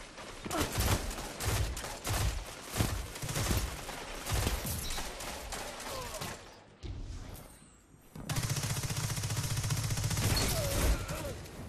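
Rapid bursts of pulse rifle fire in Destiny 2 Quickplay, loud and repeated in clustered volleys, with a brief lull before a sustained, dense stretch of shooting near the end.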